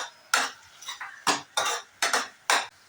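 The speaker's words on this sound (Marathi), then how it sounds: "आता ह्याच्यामध्ये कॉर्नफ्लावरची पेस्ट टाकायची परतून घ्यायचं" A spoon stirs and scrapes cornflour paste through soy chilli in a pan, six sharp separate clinks and scrapes against the metal, close and clear with no voices.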